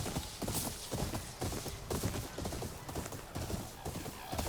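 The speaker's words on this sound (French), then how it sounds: "Mais non, c'est des chevaux." Horses in the video game Ghost of Yotei, a steady run of hoof clip-clops with faint whinnies mixed into a dense game soundtrack, with someone briefly talking.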